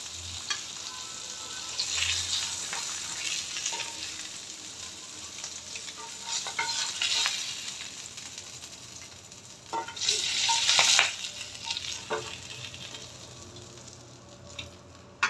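Fish frying lightly in oil in a wok, a steady close sizzle with occasional louder crackling bursts and stirring scrapes, no voices.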